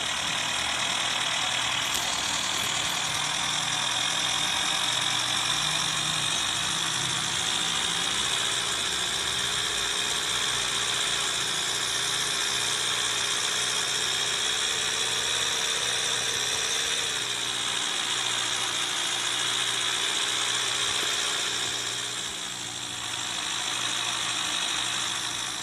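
A pickup truck's engine idles steadily and close by, a constant low rumble with vibration that runs unbroken for the whole stretch, with no voices over it.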